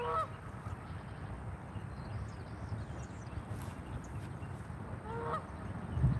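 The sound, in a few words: geese honking and calling across a lake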